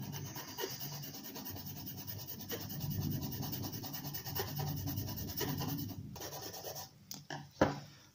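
A metal file rasps back and forth against a small plastic part of a Fujimi Fuso 1700 scale model kit, close and steady for most of the stretch, ending with a few sharper knocks and scrapes.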